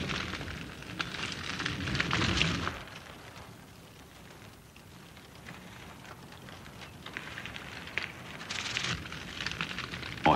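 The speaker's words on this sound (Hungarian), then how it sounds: "a maszáj pásztorok felgyújtják a szavannát" Savanna grass fire set by Maasai herders at the end of the dry season, a broad crackling hiss that swells loudly for the first few seconds, eases to a softer steady roar, then flares again near the end, with no voices.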